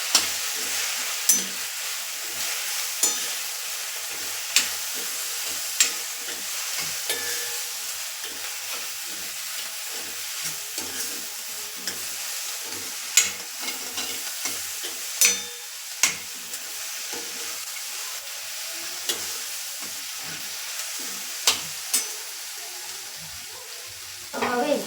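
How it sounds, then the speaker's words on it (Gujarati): Puffed rice snack being stirred with spices in a pan, a steady soft sizzle and rustle with scattered light scrapes of the spoon, continuous and close. "બધા મસાલા એડ કરી અને આપણે બરાબર મિક્સ કરી લેશું."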